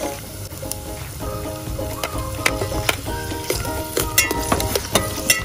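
Mushrooms fry in a pan with onion and garlic, giving a steady close sizzle broken by clinking, scraping stirs, with no talking.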